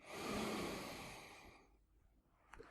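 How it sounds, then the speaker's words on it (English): A long, deep inhalation during a breathing exercise, a broad airy rush that swells and then fades over about a second and a half, followed by near silence and a faint click. "Take a deep breath in."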